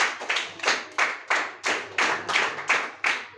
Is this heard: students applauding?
yes